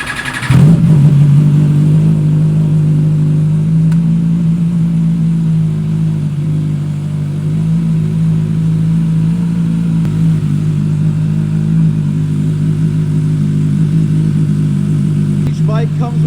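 MV Agusta SV 1000 Oro motorcycle engine cranking and catching, then settling into a loud, steady idle with a few rev blips, recorded close to the bike.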